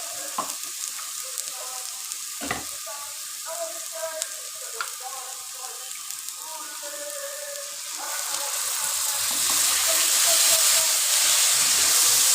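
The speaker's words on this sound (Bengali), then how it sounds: "মশলাটা রেগে গেলে পরে একটু একটু জল দিয়ে দেবেন, মশলা যাতে কোনোভাবে পুড়ে না যায়।" Frying masala for a wedding-style chicken curry crackles steadily with stirring scrapes, then water poured in brings a loud, rising hiss of steam that swells and holds for the last few seconds, with no talking.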